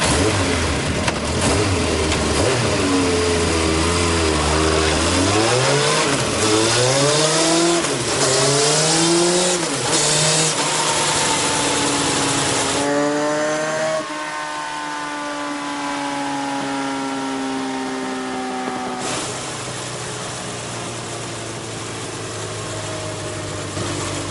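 A motorcycle engine in fourth gear revs repeatedly on a dyno, rising and falling in pitch through several sweeps before settling toward a steadier, quieter drone, loud and close with no talk.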